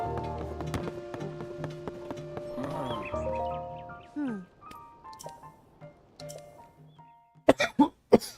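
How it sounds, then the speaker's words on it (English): A man coughs in a short cluster of three or four harsh, loud bursts near the end. Before that, game music and horse sounds play from Zelda: Tears of the Kingdom. "God, I had a cough."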